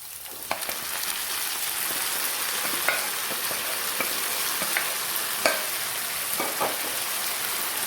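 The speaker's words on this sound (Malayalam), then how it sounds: "വഴന്നു വന്ന ഈ സവാളയിലേക്ക് നമുക്ക് ബീഫ് ഇട്ട് കൊടുക്കാം" Beef pieces sizzle loudly after going into softened sautéed onions for a Kerala-style beef roast, a close, continuous frying hiss with sharp spatula scrapes and ticks scattered throughout.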